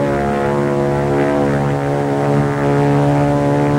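A World War II propeller airplane engine drones loud and close, a steady buzzing hum with an even pitch that holds throughout.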